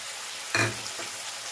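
Chicken frying in oil for a pepper fry gives one sharp sizzling burst as turmeric goes in, then settles to a faint steady crackle. The burst is brief and near, and no one talks.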